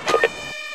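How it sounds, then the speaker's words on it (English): Short two-tone ambulance siren wail from the Emergency rescue game, two quick rising bursts over a steady synthetic hum, brief and fairly close. "The ambulance is taking the casualty to the hospital ward at the base."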